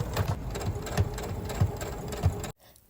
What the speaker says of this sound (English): attaching the collar ruffles to the front of the blouse by marking the center and lining them up before straight stitching it in place